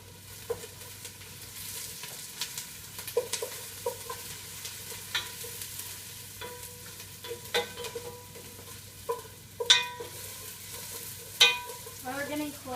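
Food gets stirred in a frying pan with a soft continuous sizzle beneath, punctuated by scattered scraping clinks of the utensil against the pan.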